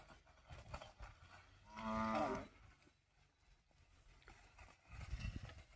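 Bullocks moving through a field during farm plowing, with a loud moo rising in the middle and quieter shuffling and rustling before and after.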